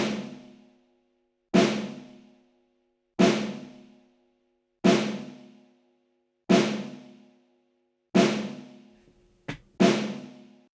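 A fat snare drum sample picked up by hallway microphones, struck alone six times at steady intervals with a quick extra hit near the end, each crack ringing out into a long roomy decay.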